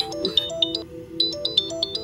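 A phone ringtone plays a repeating electronic melody, two phrases of bright beeping tones, loud and close with no one talking.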